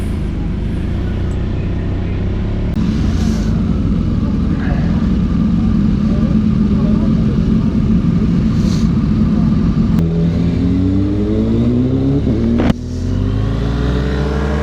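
A BMW R1200GS motorcycle rides on the track at Redstar Raceway in South Africa with a loud, steady engine drone and rushing wind, the pitch rising and falling as it shifts gears toward the end.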